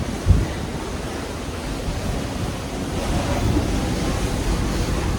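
Ocean waves and wind on deck 9 of the Cordelia cruise ship, out at sea, make a steady, loud, broadband roar with a brief bump of microphone wind noise at the start.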